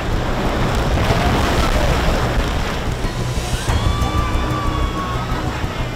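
River rapids during whitewater rafting, a dense, constant roar of rushing, churning water filling the scene at close range for several seconds.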